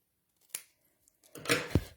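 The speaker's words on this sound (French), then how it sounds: "Je vais juste découper un petit peu mon petit ruban que je trouve trop long." Scissors snip a ribbon up close: one quick cut, then a short rustle and a couple more crisp snips, quiet and isolated with no talking.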